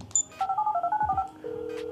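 Phone keypad dialing tones in the video game GTA 5 as a phone is pulled out to set off a bomb, a quick run of about nine tonal beeps followed by a steady held tone.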